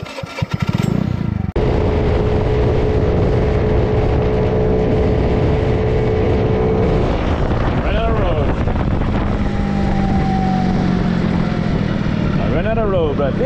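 A Maddog 50cc scooter with a 139QMB GY6 engine is ridden on a long run, its steady engine drone loud and continuous under heavy wind buffeting, with a few pitch rises as it gains speed.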